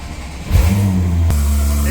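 A Porsche 911 Carrera S fitted with a Soul Performance exhaust, headers and cats fires up close by, a sharp start and brief rev settling into a loud, steady idle.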